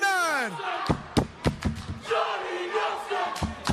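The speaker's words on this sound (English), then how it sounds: "The crowd is electric." A pro wrestling crowd cheers and shouts during a four-way US title match, a loud, lively roar broken by sharp thuds and slams from the ring, with an announcer talking over it.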